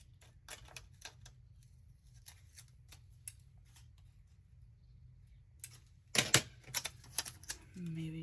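Paper is snipped with scissors during a Thanksgiving pumpkin craft session, a few faint scattered clicks followed by a sharper cluster of cuts near the end, over a low background hum.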